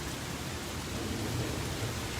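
Heavy rain pours down steadily during a severe thunderstorm in Ankeny, a dense, constant broadband wash with low rumbling underneath, close and enveloping, with no voices.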